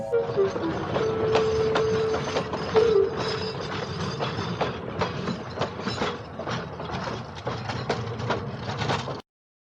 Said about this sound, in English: Rem pulled the heavy long train out of the yard.